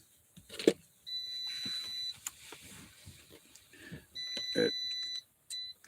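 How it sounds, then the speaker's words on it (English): A power inverter in a solar setup with a lead acid battery emits steady high-pitched electronic beeps in repeated bursts, fairly faint, with scattered knocks and handling noises around it. "My inverter beeping."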